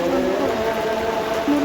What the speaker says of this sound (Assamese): ইমান ৰ'দ দি এতিয়াতো বৰষুণ দিলে